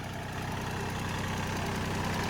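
A Yanmar 35 hp farm tractor engine idles unrevved while hot after ploughing, giving a steady, close, loud low diesel chug with even rhythmic knocking throughout and no talking.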